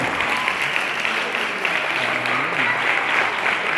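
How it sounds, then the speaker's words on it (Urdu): Loud, sustained applause from a church congregation clapping together for the glory of Jesus, a dense steady wash of hands with faint voices mixed underneath throughout. "اپنے دونوں ہاتھوں میں آواز ڈال کر یسوع کے جلال کے لیے زوردار تالیاں بجائیں"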